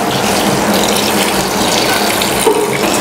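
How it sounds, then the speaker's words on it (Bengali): Clean running water pours steadily from a tap over soybean chhana being washed in a sink, a continuous close splashing gush with no talk. "পরিষ্কার জল দিয়ে ধুয়ে নেব"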